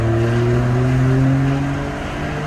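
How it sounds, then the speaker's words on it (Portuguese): A remapped VW Up TSI engine revs hard and accelerates, a loud, steady droning tone whose pitch climbs smoothly and then eases slightly, with no talk. "Mais uma acelerada."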